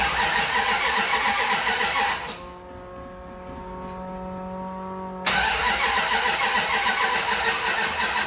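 A 1979 Dodge D100 pickup left unstarted for six months runs loud and rough, drops to a steady whirring hum for a few seconds, then roars back to a loud running engine.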